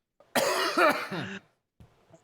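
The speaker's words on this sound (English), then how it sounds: "I'm trying to drink water while because I want to cough" A single burst of coughing, close and fairly loud, a few harsh hacks running together, followed by a brief softer rasp after a pause.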